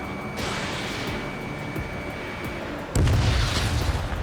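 An enemy aircraft is shot down and explodes in Ace Combat 7 over steady jet engine roar. A heavy booming blast hits partway through and rumbles loudly to the end.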